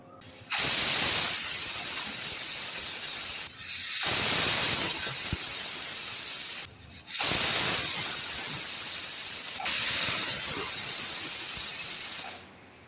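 A pressure cooker with chicken inside lets off three long, loud bursts of hissing steam whistle, each lasting a few seconds and separated by short pauses, with no voices.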